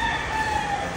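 Chickens cluck and crow nearby in a brief burst of fowl noise, with no talking.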